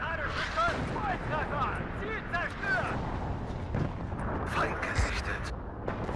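Artillery fire in the real-time strategy game WARNO, a steady, muffled rumble of distant battlefield shelling running beneath someone talking throughout.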